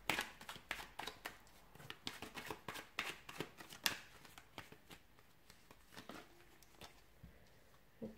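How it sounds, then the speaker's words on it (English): A deck of tarot cards is shuffled by hand in a quiet room, a close, soft run of rapid riffling and flicking bursts that repeat irregularly and fade slightly toward the end, with no voices. "give the cards a shuffle"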